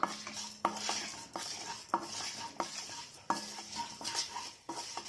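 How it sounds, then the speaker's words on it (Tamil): A utensil scrapes and stirs cumin and black pepper dry roasting inside a metal pan at a regular pace, with dry rattling and a faint sizzle underneath. "இதை நல்லா வறுத்துக்கலாம்."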